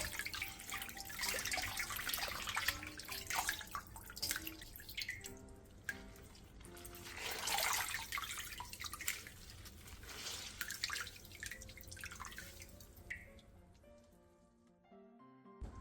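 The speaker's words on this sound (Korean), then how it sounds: "얼갈이 배추는 찬물에 헹궈낸 뒤 물기를 최대한 꼭 짜주세요." Young napa cabbage greens are rinsed in cold water while making a Korean holiday side dish, with continuous splashing, dripping and running water sounds close by that fade out at the end.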